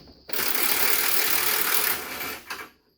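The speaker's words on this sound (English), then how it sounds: "And you get the old impact on there." An impact wrench hammers on a suspension bolt during a Malibu suspension teardown, one loud, continuous rattling burst of about two seconds that tapers off with a brief second pulse, with no talk.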